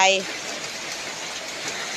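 Steady rain falling outdoors in the countryside, a constant broad hiss of moderate loudness following a brief voice at the start.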